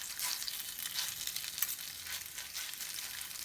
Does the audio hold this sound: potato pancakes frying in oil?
yes